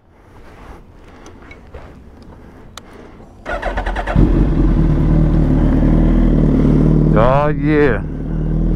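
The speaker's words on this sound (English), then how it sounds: "So, let's get this cold start going." A motorcycle engine cold-starts at a bikini bike wash: a brief cranking burst, then a loud steady idle settling in and running throughout, with someone talking briefly over it near the end.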